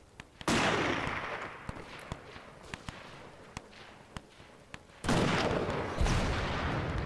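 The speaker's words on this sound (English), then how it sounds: "The cannon over there is actually firing on me." Cannon fire in a Between Empires battle game, a loud booming blast near the start and another around five seconds, each trailing into rumbling noise, with sharp distant musket shots crackling steadily in between.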